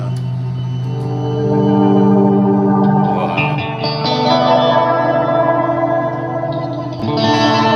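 Electric guitar run through a Strymon Night Sky reverb pedal, sustained tones washing into a thick, echoing ambient swell with shimmering layers, loud and alone without speech.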